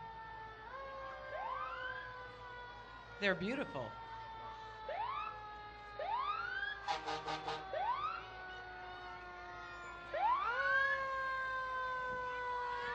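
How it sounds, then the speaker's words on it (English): A fire truck's wailing siren rises and falls repeatedly at a Christmas parade in Montrose, Glendale, with a horn blast and some short bursts mixed in, as a person speaks briefly over it. "I'm hearing a siren. I see a big fire truck."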